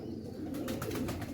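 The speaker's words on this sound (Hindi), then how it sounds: "मतलब अच्छा मज़ेदार कबूतर है यार" Pigeon cooing close by, a short low soft warble lasting about a second, heard alone without talk.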